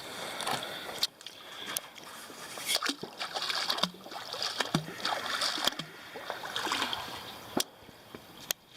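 Irregular splashing and sloshing of lake water as a rusty, magnet-fished pocket knife is rinsed off from a boat, with sharp knocks, drips and trickles throughout, close and moderately loud.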